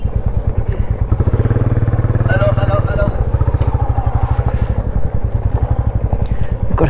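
Several motorcycles idle and rumble close by with a steady, pulsing engine beat and some clatter, with a brief rise in engine note partway through.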